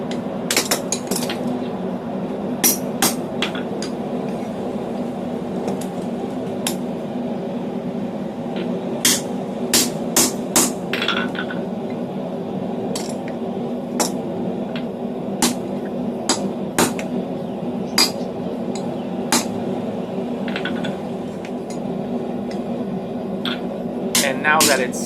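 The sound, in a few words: hammering a slitter to slice open hot steel for blacksmith tongs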